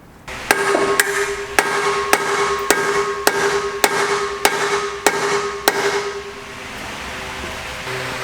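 Ten evenly spaced metal hammer blows ring out on a Porsche 944 cross member, each strike sharp and loud with a lingering metallic ring, then the blows stop and only a faint hum remains.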